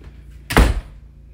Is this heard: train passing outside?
no